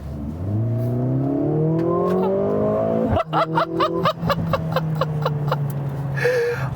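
A 2021 Mercedes-AMG GLA 45 with 382 horsepower accelerating hard, the engine note climbing steadily through a long gear, then a sharp shift crack followed by rapid rising pulses as it keeps pulling, loud and close from inside the cabin.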